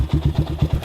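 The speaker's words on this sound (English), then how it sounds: "Runs, it's idling now, so it did just need to be warmed up." A 400cc quad's engine idles after being warmed up, its carbureted single ticking over in a steady, rapid low pulse of evenly spaced thumps, close and fairly loud with no talk.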